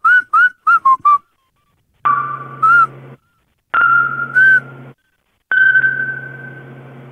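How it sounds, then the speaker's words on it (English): A person whistles inside an elevator, first a quick run of four or five short chirps, then three longer sustained notes with slight pitch rises, each ringing clearly with an echoing electronic hum beneath and silent gaps between. "If I whistle, it comes through even better."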